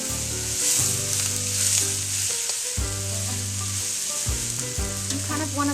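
Rice tossed into a hot pan for curry chicken fried rice crackles in a loud, continuous sizzle, with a few stirring scrapes and pauses and no talking.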